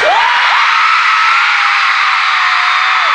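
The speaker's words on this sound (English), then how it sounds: "you guys can scream the loudest" A packed concert arena crowd in Dublin screams continuously at a pop boy-band show, a loud, sustained wall of high-pitched shrieking and cheering with piercing individual screams rising above it throughout.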